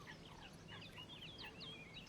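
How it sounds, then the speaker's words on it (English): A wild duck caught in an old fishing net on open water calls in a series of short, chirpy cries over a steady low rumble of wind and water, fairly faint and continuous. "A wild duck, trapped in an old fishing net and slowly being pulled under by it."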